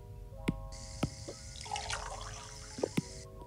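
Toca Life World game sound effects: a few sharp ticks, then a short burst of water pouring and splashing over a steady tone.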